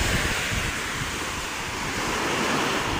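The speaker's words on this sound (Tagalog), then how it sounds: "tingnan naman yung pagkaspas ng alon, lalaki na, oh" Large surf pounding the shore in Quezon Province, Philippines, as Typhoon Uwan strengthens, a dense continuous roar of breaking waves mixed with heavy wind buffeting the microphone, loud and close without letup.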